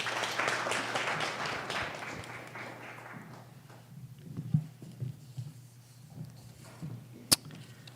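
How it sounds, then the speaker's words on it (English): Applause at a Flint board of education meeting after an oath of office, rising at the start then thinning out to scattered claps and a few sharp isolated claps in a quiet room. "One more round of applause for Mr. Clack, everyone."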